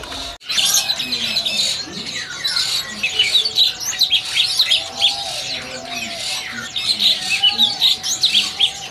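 Caged songbirds, including bulbuls, in a bird shop kiosk chirp and trill continuously and fairly loudly, with occasional squawks over a steady low hum.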